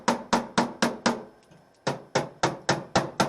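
A hammer strikes a metal panel to knock down high spots, about a dozen sharp, ringing taps in a steady rhythm with one brief pause, close and loud with no talking.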